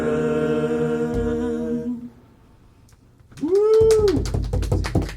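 A cat meows once, loud and close, a drawn-out rising and falling cry followed by a few short vocal bursts, coming in right after a sustained musical tone fades out.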